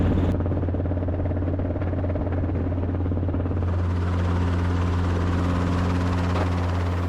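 Helicopter with open doors and big rotor blades running overhead, a loud, continuous close-up drone with a steady low rotor throb and engine whine, the pitch and tone shifting slightly partway through.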